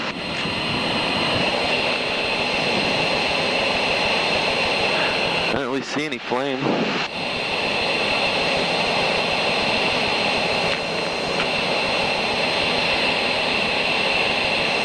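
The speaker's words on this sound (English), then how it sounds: "those guys will be coming from San Bernardino with the planes" Jet aircraft heading in from San Bernardino to fight a fire roar loudly and continuously overhead, a steady engine drone with a brief dip partway through, while people talk over it nearby.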